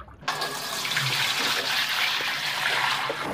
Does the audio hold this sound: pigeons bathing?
yes